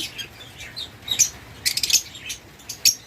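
Lovebirds with closed leg rings, seventeen months old, chirp in a series of short, high, scattered calls of moderate loudness, with a few sharper bursts, over a low background hum and no talking.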